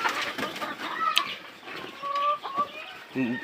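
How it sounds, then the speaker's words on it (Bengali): One-month-old Sonali chicken chicks give rising and falling peeps and chirps, several birds close by, with rustling and faint flapping among them. "এগুলো 1 মাস বয়সী সোনালী মুরগির বাচ্চা আমার।"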